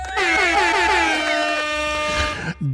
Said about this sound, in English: You know what you're about to get. An air horn.